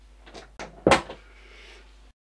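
A door opening at close range, with a couple of soft knocks, then a sharp louder clack of the latch or handle and a brief creaking settle before quiet.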